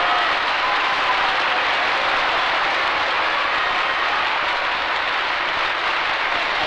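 Sustained applause from a large opera audience in Mexico fills the space, a loud, continuous roar of clapping that stays constant from start to finish with no talk.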